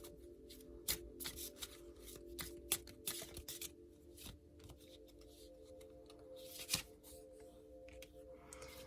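Tarot cards being shuffled by hand in a quiet room, a run of soft riffling flicks and sharper card snaps at irregular moments, close and fairly quiet over a steady low hum.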